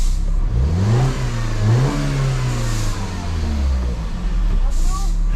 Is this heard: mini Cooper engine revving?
yes